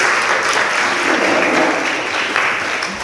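Loud, dense applause from wedding reception guests after a toast, sustained clapping filling the room throughout with no voices over it.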